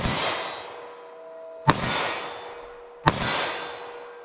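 Two sharp, loud reports from a short-barrel 9mm pistol fired at a 25-yard target, about a second and a half apart, each ringing out with a long decaying tail at an outdoor range.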